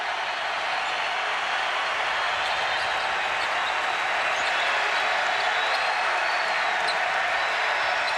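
Home crowd roaring in a basketball arena during a Creighton Bluejays at Wichita State Shockers college game, a dense, steady wall of cheering and applause held at full volume throughout, with no break.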